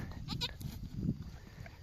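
A goat that has just given birth bleats with a short, wavering cry, faint and somewhat distant, followed by quieter low rustling and shuffling.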